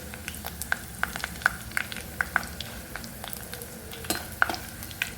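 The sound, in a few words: dried vegetable vathal frying in sesame oil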